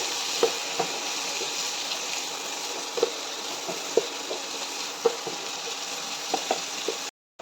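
Two teaspoons of Kashmiri chili powder sauté in oil for a watermelon rind pickle, making a steady close hiss dotted with small pops and stirring clicks. It cuts off abruptly at the end, and no one speaks.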